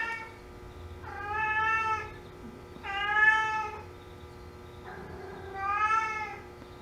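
A cat meowing three times in long, drawn-out, loud and close calls spaced a second or so apart, with quiet gaps between.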